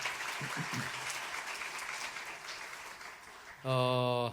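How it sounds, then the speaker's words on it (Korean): A church congregation applauds during a Sunday worship service, a steady broadband wash of clapping that holds for several seconds before a brief burst of singing or instrumental tone at the end. "박수를 한번 격려하겠습니다."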